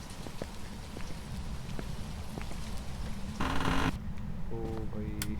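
Heavy rain pouring in the horror video game Phasmophobia, a constant hiss of patter with faint ticks, interrupted by a brief louder burst near the end and a few short tonal beeps.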